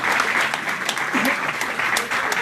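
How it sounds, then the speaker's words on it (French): Sustained audience applause at a conference, dense and steady throughout with a faint voice briefly audible underneath. "Applaudissez une seconde fois, s'il vous plaît."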